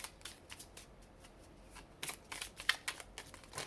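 Oracle cards are shuffled by hand in a run of soft, rapid riffling bursts, with a louder flurry toward the end, close and alone with no talk.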